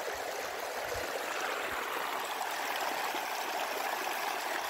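Steady rush of a stream flowing alongside a walking path, a continuous close wash of moving water with a few low thumps early on, no voices.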